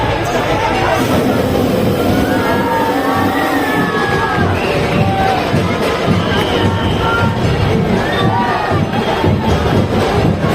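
A large crowd at a Mumbai Devi arrival procession cheers and shouts continuously, loud and dense, with overlapping voices, whistles and calls rising and falling over a constant roar.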